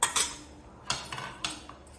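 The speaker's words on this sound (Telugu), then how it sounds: "మూత పెట్టేస్తున్నాను." A lid set onto a cooking pot of simmering ponnaganti greens and toor dal on a stove gives a few sharp metallic clinks and clatters, with quieter rattles between them.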